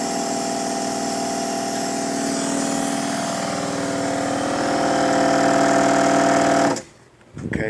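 A pump on a Ford Expedition runs steadily after the key is turned on, a close mechanical whir with a fine rapid pulse that holds for several seconds before cutting off abruptly into near silence.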